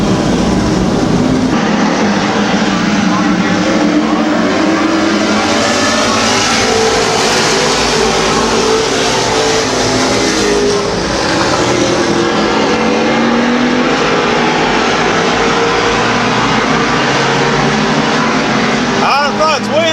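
Race cars circle the oval at Midvale Speedway, a dense, continuous engine roar filling the whole stretch with no clear gaps, while an announcer talks over the noise.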